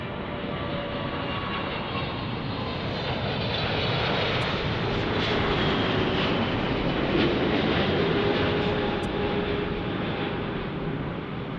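A Cathay Pacific airliner passes at Los Angeles International Airport, its jet engine roar a broad, sustained rush that swells toward the middle and then slowly eases off, with no voices.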